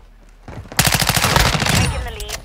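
Rapid automatic gunfire in a Modern Warfare 2 firefight, a loud, close burst of evenly spaced shots rattling for over a second before trailing off into scattered echoes.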